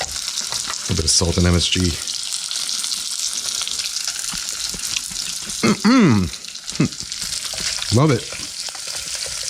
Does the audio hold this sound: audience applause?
no